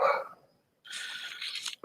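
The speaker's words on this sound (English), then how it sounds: "Do you hear my dog going crazy in the background?" A dog barks and whines somewhere in the background, in two bursts split by a short silence, faint and a little muffled.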